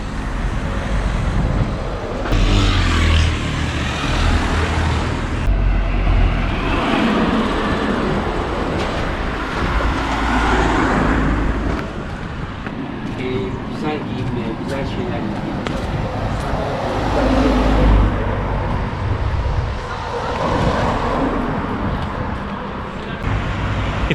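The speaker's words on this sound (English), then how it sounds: "It's crazy how much traffic is on this little one-way street" Steady road traffic on a small one-way street in Bodrum, Turkey, at rush hour. Passing vehicles swell and fade nearby under continuous background noise.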